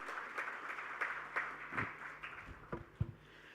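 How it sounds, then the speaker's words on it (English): Applause from the audience at the Gadgets Now Awards 2023 ceremony in India, a continuous spread-out patter of many hands clapping at a distance in a large hall, with a few louder nearby claps. "Round of applause for that, man."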